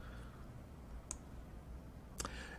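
Two sharp, quiet computer mouse clicks about a second apart, selecting an item in the left-hand menu of the Ensembl bioinformatics website, over a faint steady background hiss.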